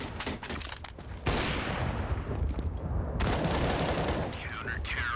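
Counter-Strike video game gunfire fills the mix, a dense sustained burst of loud automatic shots with crackling impacts running for several seconds, broken by a short pause.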